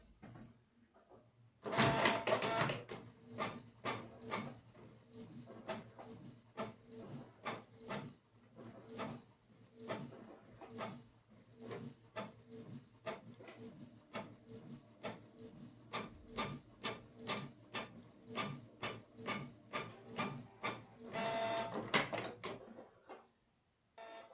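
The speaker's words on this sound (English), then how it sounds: "Click on it and our printer should start working." A USB printer shared over Wi-Fi through a Raspberry Pi prints a test page, running steadily for about twenty seconds, feeding paper with rapid mechanical rasping and repeated clicking strokes, then stops.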